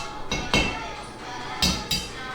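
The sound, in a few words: hammering to seat a jack post base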